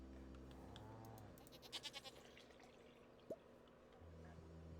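Faint goat bleats from the video game Stardew Valley warble briefly in a quiet setting, followed by a short squeaky call, with soft background hum.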